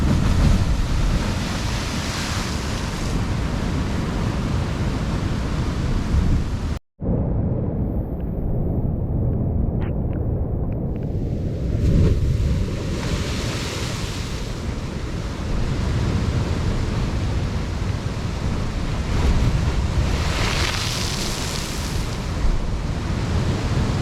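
Heavy ocean surf roars continuously on the coast near Positano, with waves swelling and crashing close by, a brief dropout partway through, and no voices.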